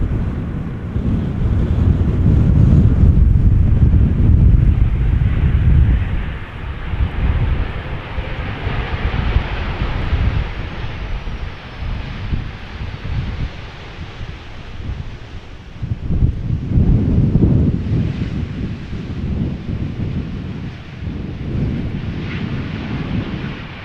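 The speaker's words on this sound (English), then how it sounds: "Earlier it looked like the wind was slowing down a little bit, but at the moment it does actually feel like it has been picking up again" Strong crosswind gusting at Amsterdam Schiphol Airport, a loud roaring rumble that buffets the microphone, surges heavily early, dips and then rises again, with a distant aircraft drone underneath and no voices.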